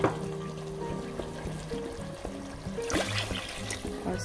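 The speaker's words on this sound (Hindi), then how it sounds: "तो अभी इसमें मैं डाल देती हूँ 2 कप पानी।" Two cups of water are poured into a pan of fried potatoes while making an aloo chana breakfast curry, a short splashing pour heard over a steady tonal background sound.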